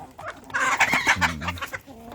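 Backyard chickens on a rural farm clucking in a busy, overlapping flock, with a few louder calls rising above steady low murmuring, fairly close.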